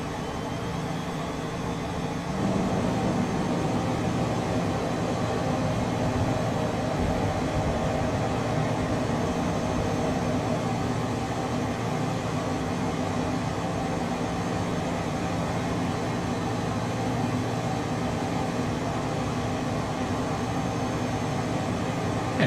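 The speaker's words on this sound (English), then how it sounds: "Super simple aircraft to start up." A Phenom 100 business jet's engine spools up in a flight simulator game, with a steady, loud broadband roar that thickens after a couple of seconds and then holds constant throughout.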